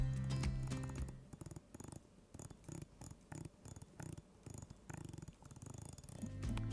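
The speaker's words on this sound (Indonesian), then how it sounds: "Wheels muter ini soalnya tuh enak, ditambah ada suaranya juga tuh kayak gini deh" Rotating bezel of a Samsung Galaxy Watch 3 smartwatch being turned, giving a quick run of crisp, evenly spaced clicks, close and fairly quiet, with no voices.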